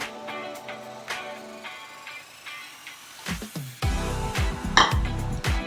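Boiled, strained pearl millet noodles tipped into a cooking pan and tossed, giving a run of clattering metal and utensil knocks that turn louder and denser toward the end, close and with no talk over them.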